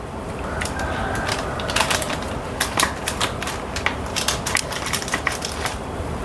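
Chilled no-bake chocolate dry fruit balls are cut through, producing close, crunchy cracks and crisp ticks in an irregular series over a constant background hiss.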